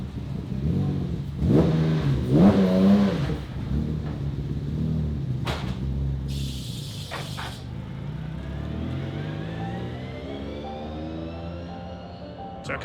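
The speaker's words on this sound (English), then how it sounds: "the cars are coming round ready for the rolling start." Race cars circle the track before a rolling start, with engines droning and revving in rising and falling tones. A louder surge comes early, then a steady rumble, and pitch climbs toward the end.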